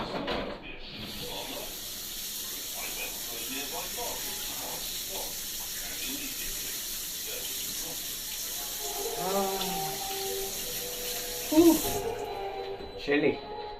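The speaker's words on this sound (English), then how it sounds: "I'm going to wash my hands" Water runs steadily from a tap while hands are washed at a sink, a soft continuous hiss under someone talking, with a couple of louder splashes near the end.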